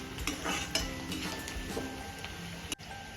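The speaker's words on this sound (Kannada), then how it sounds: "ಸೊ ಈರುಳ್ಳಿ ಸ್ವಲ್ಪ ಗೋಲ್ಡನ್ ಫ್ರೈ ಆಗಲಿ" Onions frying to golden in a pan at home, a steady crackling sizzle broken by scraping stirs and light clinks of a utensil against the pan.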